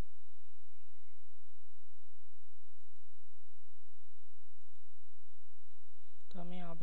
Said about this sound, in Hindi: तो हमें यहाँ पे क्लिक करना है।